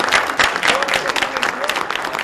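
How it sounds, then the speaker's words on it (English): A school auditorium crowd applauds a young high school senior called up on stage, with close, uneven bursts of clapping mixed with voices and cheering over the top. "I want you to give this young lady a big round of applause"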